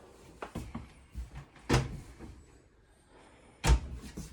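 Quiet indoor handling sounds with a few sharp knocks and thumps as a small drawer in a 2022 XLR 2815 toy hauler RV slides and shuts twice, close by.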